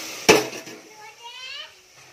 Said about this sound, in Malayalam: പാത്രം താഴെ വീണതാണ് കേട്ടോ.